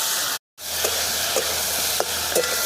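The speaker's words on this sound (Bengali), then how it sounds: "কাজু কিশমিশ দিয়ে আবার একটু নেড়ে নেবো ভালো করে।" Cashews and raisins fry with grapes in a pan for grape chutney, sizzling steadily while a spoon stirs with several soft scraping strokes; the sound cuts out briefly near the start.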